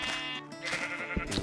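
Sheep in Minecraft bleat in a few short, nasal calls, near and clear, with no talking over them.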